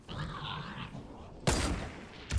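Gunfire in the Fortnite video game: after a stretch of muffled in-game ambience, a sharp loud shot cracks out, followed by a second burst near the end.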